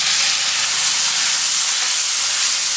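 Chopped tomatoes for tomato chutney dropped into a hot pan, giving a loud, steady, close hiss and sizzle that fills the whole moment without pause.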